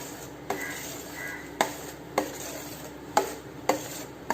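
Mashed banana for pazham pradhaman being stirred in a vessel, a soft scraping with regular utensil clinks against the pot roughly every half second, close and fairly quiet.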